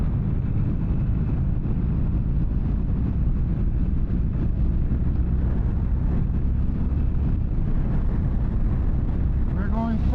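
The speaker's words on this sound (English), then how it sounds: "We're going full throttle. 5th gear. And we are doing 80 miles an hour. And the wind is brutal." A 2022 Harley-Davidson Iron 883 motorcycle at full throttle in fifth gear at highway speed, a steady low engine drone buried under constant loud wind buffeting against the microphone.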